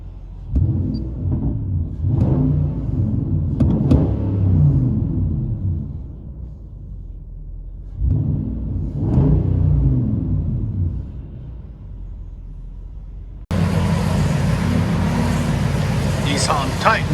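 Heard from inside the cab, a 2013 Nissan Titan 5.6L V8 with true dual exhaust and Cherry Bomb Extreme mufflers rumbles deeply, swelling with several revs before a louder, hissier stretch near the end.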